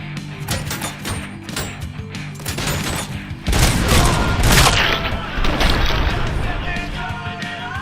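Gunfire in the shooter game Robocop Rogue City, a dense burst of rapid shots and booms, loud and close, intensifying midway with crashing impacts.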